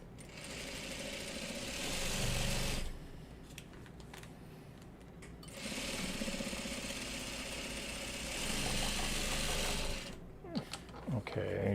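A sewing machine stitches quilt string blocks in two sustained runs of rapid, mechanical whirring, separated by a pause. A brief third burst follows, and faint talk sits in the quieter gaps.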